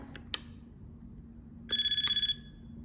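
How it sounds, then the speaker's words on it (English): A ringtone sounds as a phone rings in the Tamagotchi Restaurant video game: a couple of short electronic beeps, then a clear rapid warbling trill lasting about half a second, alone with no talk. "It seems like our phone is ringing, so let's pick it up."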